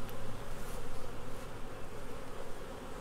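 Dense, continuous buzzing of a honeybee swarm fills the air, a steady droning hum with individual bees passing close now and then.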